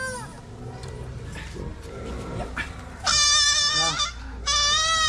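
Goats on a Batangas farm let out two loud, close, wavering bleats near the end, after a stretch of quieter mixed sound with voices in the background.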